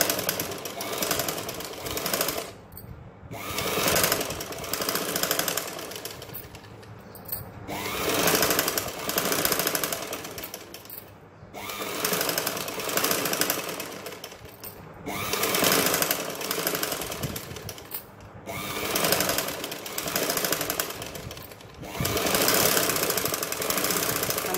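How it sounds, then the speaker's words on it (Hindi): A sewing machine stitching along the front neck piping of a shirt, loud and close, running in long steady bursts with brief pauses between runs. "अब हम इसके इस हिस्से पर सिलाई लगाएंगे जहाँ पे हमने पहले पाइपिंग पे सिलाई लगाई थी।"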